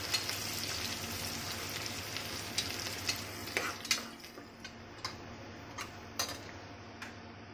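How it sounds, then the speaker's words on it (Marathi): Onion frying in a pan until reddish-brown for a vegetable pulao, a soft steady sizzle with a few light ticks of a spoon stirring, close but quiet. "दोन ते तीन मिनिटं कांदा लालसर करून घ्यायचा आहे।"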